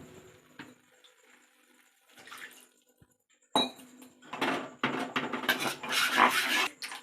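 Water is poured into a cooking pan with a cornflour mixture while making a roadside-style mushroom dish. Light utensil clinks come first, then a louder, rushing spell of pouring and sloshing, with no talking.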